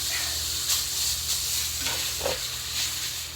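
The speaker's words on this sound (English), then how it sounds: "my pan is nice and hot, so I'm just going to brown the pork" Pork browns in a hot pan, giving a steady close hiss and sizzle with faint stirring movements throughout.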